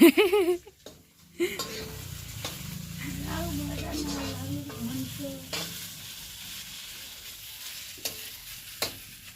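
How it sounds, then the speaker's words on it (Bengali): Bottle gourd slices fry in oil in a home kitchen pan, a steady sizzle with occasional scraping stirs, while people talk nearby, mostly at the start. "লাউয়ের ভাজা বানাচ্ছে"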